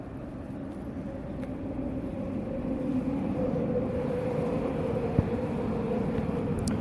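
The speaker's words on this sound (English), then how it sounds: "That's a new train." Train passing, heard as a steady low rumble and hum that swells slightly and holds, moderately loud and continuous, with one brief click and no voices.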